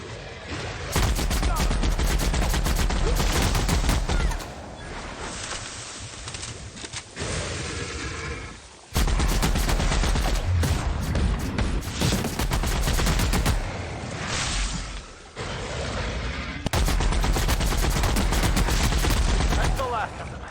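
Heavy automatic gunfire erupts in bursts during a video game fight, loud and close, broken by short lulls where voices and softer sounds come through before the shooting resumes.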